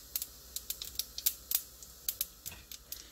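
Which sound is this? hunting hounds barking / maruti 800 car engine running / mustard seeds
mustard seeds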